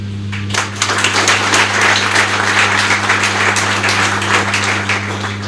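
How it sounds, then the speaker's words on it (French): Applause from the audience at a training-centre ceremony for the promoter, steady dense clapping lasting the whole stretch, with a constant low electrical hum underneath. "je voudrais vraiment vous demander d'applaudir le promoteur"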